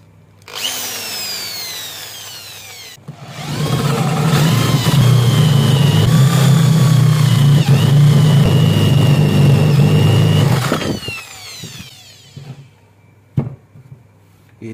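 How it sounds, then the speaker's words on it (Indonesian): A power drill whines up and bores steadily into wood for several seconds with a loud grinding hum, then spins down, with lighter tool noises before and after. "langsung saja kita coba untuk mengebor"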